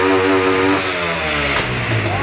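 Honda Pop 110i motorcycle with a modified exhaust revving loudly up close, a rough buzzing engine note that rises and falls through a couple of throttle blips with no talk over it.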